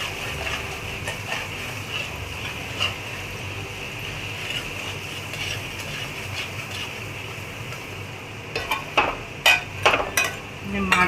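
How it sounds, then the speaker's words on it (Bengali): Spice masala with sour yogurt sautéed in a pan over a gas flame, a steady low frying hiss throughout, joined near the end by several sharp clinks and scrapes of a spoon stirring against the pan. "কষিয়ে নিচ্ছি"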